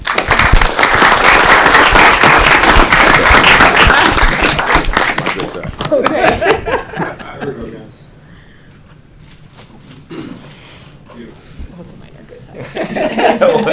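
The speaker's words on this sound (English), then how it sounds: "Let's give her a round of applause." Applause from an audience at a city council meeting, loud dense clapping for about five seconds that thins into scattered claps and fades, followed by murmuring and talk.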